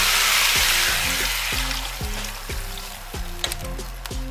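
Water pours steadily into a cooking pot of pork ribs with a broad rushing hiss, joined by a faint rhythmic knocking every half second or so.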